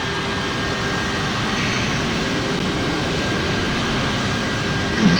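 Airbus A320 engines in the PTFS video game, a continuous even roar without pauses, steady and fairly loud with no talk over it.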